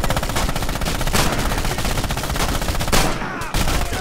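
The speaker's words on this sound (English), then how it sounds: "Machine gun going off" Machine gun fire in the World War II shooter Red Orchestra 2: Heroes of Stalingrad, loud rapid automatic bursts with a steady rattling rhythm filling the clip, briefly pausing near the end, no speech.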